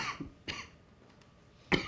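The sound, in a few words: coughing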